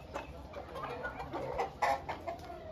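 Roosters clucking on a farm where food for fighting roosters is being prepared, with soft, scattered clucks and short calls at moderate distance and no talk.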